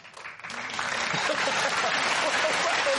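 Studio audience on a British comedy panel show claps steadily, a dense, sustained wash of applause that swells after the first second and holds loud and even throughout, with no talk over it.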